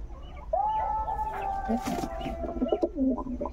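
Pigeons coo softly in a loft of Jira pigeons, low murmuring calls mixed with a long, steady, whistle-like bird call that holds for about two seconds over a constant low background hum.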